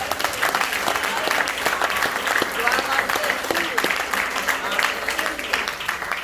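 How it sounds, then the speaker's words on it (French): A church congregation applauds steadily, loud brisk clapping from many hands that continues evenly throughout, with voices mixed in beneath. "applaudissez bien."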